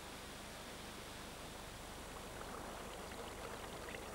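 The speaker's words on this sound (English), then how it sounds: "A trickle of water comes up from an underground stream." A trickle of water from an underground stream at a Mojave Desert oasis runs as a steady, even broadband wash, constant and unbroken with no other sounds.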